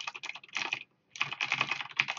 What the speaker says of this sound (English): Razer keyboard.